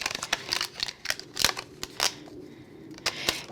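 Tape is peeled off a handmade apron-shaped craft card in a series of close, sharp crackling rips and snaps, with short pauses between pulls and no talking.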